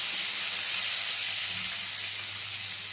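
Chopped tomato, one medium tomato for soya khichdi, sizzles in hot tempering oil with a loud, even, close hiss that holds steady throughout.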